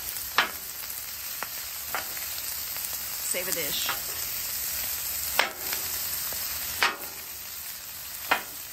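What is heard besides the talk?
bench scraper chopping broccoli on Blackstone griddle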